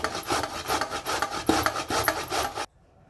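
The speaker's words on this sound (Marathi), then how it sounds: "हे असं आपण भोपळा खिसून घेतलेला आहे" Bottle gourd (dudhi) grated by hand on a kitchen grater, a close, steady run of rough rasping strokes in quick rhythm, stopping abruptly into near silence at the end.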